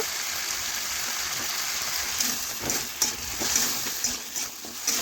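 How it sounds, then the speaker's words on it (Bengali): Steady hissing sizzle of punka greens and vegetables frying in a hot pan, with faint scraping and stirring clatter in the second half. "এইভাবে আমি কিছুক্ষণ ভেজে নিচ্ছি সবজি"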